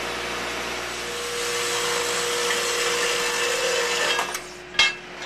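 A power tool cutting a half-inch wrought iron bar to length, running as a steady loud whining drone with a constant hum for several seconds, then winding down with a few sharp knocks near the end.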